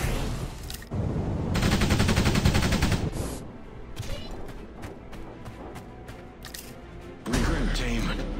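Automatic gunfire from a dinosaur-fighting video game, long sustained rattling bursts with scattered single sharp cracks in between, loud and close, with a player's voice talking over parts of it.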